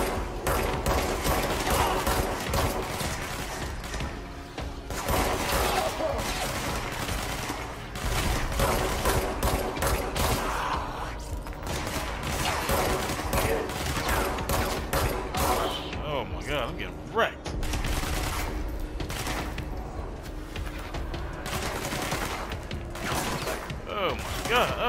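Rapid gunfire bursts and clattering mechanical impacts in the video game Control, dense and continuous throughout, with game effects layered over it.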